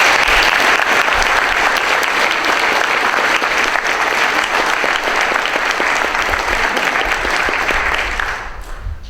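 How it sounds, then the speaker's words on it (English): Loud, continuous applause from a crowd at a community board meeting thanking volunteer coaches, a thick wash of many hands clapping steadily before fading near the end. "So if everybody would give a round of applause to our excellent volunteers."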